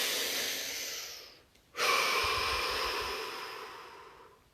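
A person draws one deep breath and then breathes out. A soft inhale fades into a brief pause, followed by a long, airy exhale that trails off slowly. Both are close and alone.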